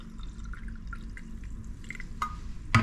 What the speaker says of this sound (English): I'm gonna add a little bit more of my bubbles because I like carbonated water.